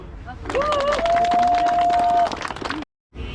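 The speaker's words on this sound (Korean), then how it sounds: "일단 다시 한 박수" A group claps together at a running club's training session on the Gwacheon stadium track, a dense, steady burst of applause lasting about two seconds with a thin whistle-like tone above it, then a brief silence before the noise resumes.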